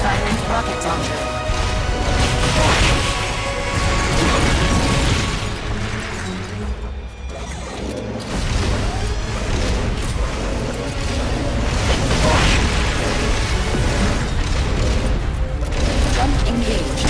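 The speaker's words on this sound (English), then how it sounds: "Firing rocket launcher." A rocket launcher fires amid the roar of a boss fight in the Metal Gear Solid Peace Walker video game. Loud blasts and crashes are layered over continuous mechanical noise.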